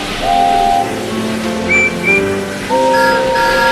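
A steam engine's whistle sounds as the locomotive Stepney departs: several clear, bright whistle blasts of shifting pitch, loud and close, separated by short gaps.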